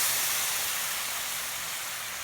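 Lemon juice poured into hot, light copper-colored caramel for flambéed crêpes gives a steady, close hiss and sizzle that fades slightly over a couple of seconds, with no talking.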